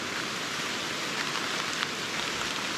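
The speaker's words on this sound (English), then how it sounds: "I was going to cross the field there, but now it is pouring." Heavy rain pours steadily across an open field during a thunderstorm, a dense, even hiss of downpour with no breaks and no voices.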